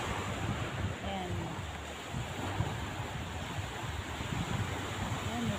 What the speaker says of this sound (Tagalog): Ayan, ito yung dagat dito.